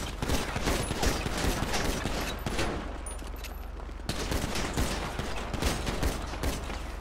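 Rapid gunfire bursts from a GTA 5 roleplay shootout during a traffic stop, loud and dense, with repeated volleys of shots running through the whole stretch over steady background noise.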